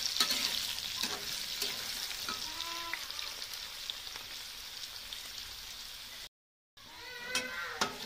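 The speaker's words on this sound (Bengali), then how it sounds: "আলুগুলো এইভাবে করে ভালো করে ভেজে নেব, লাল লাল করে।" Potato pieces fry in oil in a home kitchen, a soft, steady sizzle with scattered crackles and stirring clicks, briefly cut to silence before resuming.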